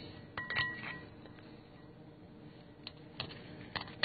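A knife cuts into a cooked lamb chop on a plate, making faint scattered clinks and scrapes against the dish in a quiet room.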